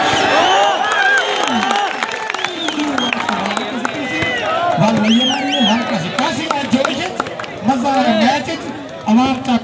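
A crowd at a local match claps and cheers, with loud, continuous chatter and whooping voices over scattered applause.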